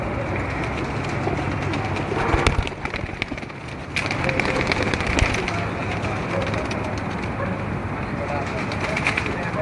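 Kamkar breed pigeons coo on a rooftop loft amid a dense, constant wash of background noise, their calls blending with the surroundings while a person talks over them.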